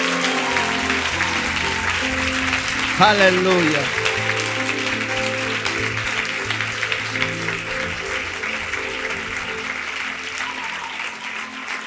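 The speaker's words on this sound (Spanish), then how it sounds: "Dale un aplauso al Rey de Reyes esta mañana" Worshippers at a Spanish-language Sunday morning church service clap continuously for nearly twelve seconds under sustained music, while a voice speaks and cries out over the applause.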